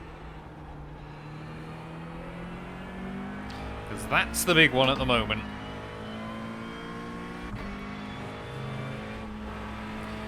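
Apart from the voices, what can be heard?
McLaren GT3 race car engine accelerating, iRacing video game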